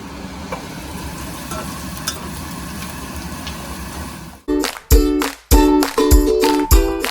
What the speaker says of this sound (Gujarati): રોટલી વગેરે વઘારું છું